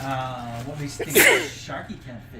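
A short, sharp sneeze bursts out in the middle of a person talking indoors at home.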